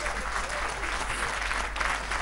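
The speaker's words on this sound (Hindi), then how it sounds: "ताली वाली बजा सकते।" An audience at a Hindi poetry and comedy gathering claps steadily, a dense, even wash of applause with no break.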